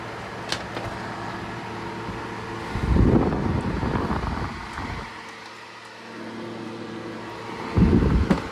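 A Hercules cordless dual-power jobsite fan blows a steady broadband rush of air at close range, with louder gusts at about three and eight seconds when the airflow hits nearer.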